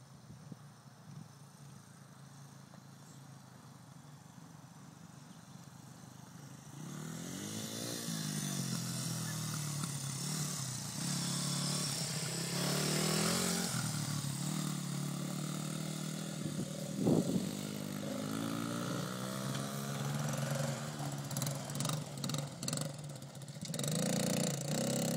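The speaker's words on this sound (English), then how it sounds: "Riley is on an 80, Honda 80." A Honda 80 dirt bike and a quad race together, their engines revving loud and close, rising and falling as they pass and accelerate, with a quieter stretch of distant engine noise at the start.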